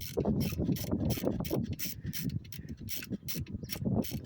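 A ratchet is cranked in quick, even strokes to loosen the positive-wire bolt on the alternator of a 2016 Ford Focus, a close, steady clicking rhythm that runs throughout.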